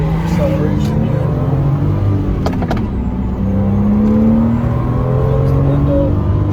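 A Porsche 987 accelerates hard from inside the cabin, its engine note climbing steadily in pitch as the revs rise, loud and continuous with faint wind noise.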